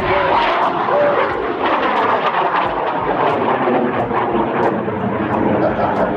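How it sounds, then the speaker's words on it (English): A 16-foot, 180-pound model rocket launches with a loud, continuous roaring rumble that stays strong throughout, heard outdoors at a moderate distance. "Not bad takeoff for 180 pound rocket."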